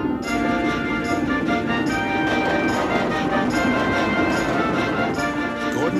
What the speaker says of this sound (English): Gordon's train rocketed past and was gone.